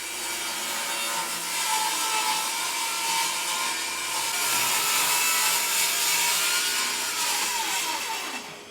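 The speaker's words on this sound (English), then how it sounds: "So I'm just going to trim a little off the edge boards." Hand saw trimming the width of wooden edge boards for a pizza peel, a close, continuous rasping stroke sound with steady back-and-forth rhythm.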